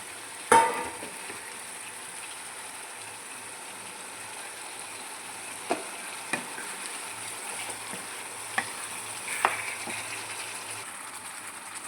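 Fried tuna pieces stirred into hot, sizzling masala for tuna fish pickle, a soft, quiet sizzle broken by a few scraping clacks of the spoon against the pan, close with no talking.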